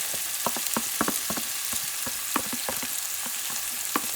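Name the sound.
garlic frying and being stirred in a pan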